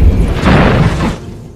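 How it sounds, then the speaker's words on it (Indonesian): A bomb explodes near a parked car in a Jackie Chan action film, giving a loud, heavy boom with a rumbling low end that sustains for about a second before fading. "tiba-tiba saja bom meledak di sekitaran Queen yang sedang berparkir"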